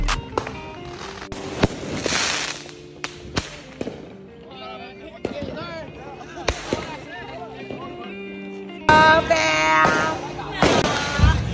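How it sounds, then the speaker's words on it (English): Fireworks crack and pop in quick irregular bursts at an Independence Day celebration, some loud and sharp, mixed with whistling fizz and people talking nearby. "they're popping the fireworks"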